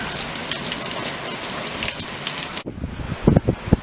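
Heavy monsoon rain pours down in a dense, steady hiss for most of the stretch, then breaks off abruptly into a quieter patch with a few loud close thumps and knocks near the end.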